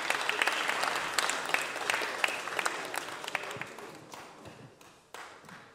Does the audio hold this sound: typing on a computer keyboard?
no